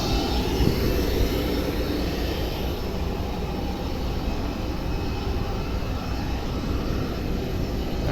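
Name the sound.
Boeing 787 airliner preparing for takeoff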